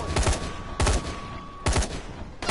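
Bursts of gunfire in the zombie video game Dying Light during an ambush, three loud rapid volleys spaced about a second apart, each a dense crackle of shots, with no talk.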